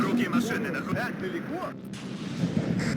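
Artillery fire in the WARNO real-time strategy game, muffled booms and bursts under the busy battle mix of gunfire and vehicle noise, with someone talking over it.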